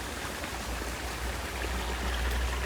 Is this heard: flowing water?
yes